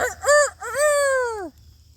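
A voice imitates a rooster crowing, two rising-and-falling calls in close succession, loud and near, the second drawn out before cutting off.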